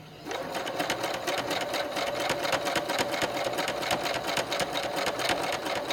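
A sewing machine zigzag-stitches fabric rug strips butted together. Its rapid, steady mechanical whirr and needle chatter run continuously up close, with no pauses and no voices.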